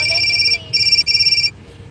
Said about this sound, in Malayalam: ഇവിടെ ഫോൺ അടിക്കുക